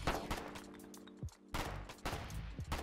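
Bursts of gunfire in the war game Foxhole rattle through a noisy battlefield mix, rapid overlapping shots in two clusters with a brief lull between, fairly loud and close.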